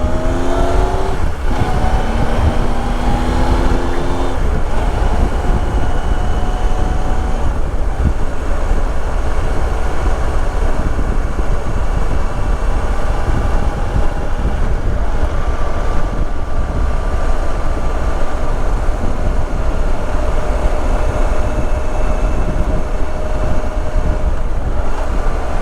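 A motorcycle rides along a road, its engine running in a steady, continuous drone with wind buffeting the microphone throughout and no talking.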